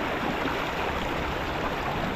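Swollen, fast-flowing river just after heavy rain, a loud steady roar and rush of churning water filling the scene without pause, close by and with no voices.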